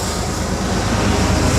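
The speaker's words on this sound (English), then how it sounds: "there's a train going by." A train passes close by, a steady loud rumble and roar filling the short stretch without a break and with no voices.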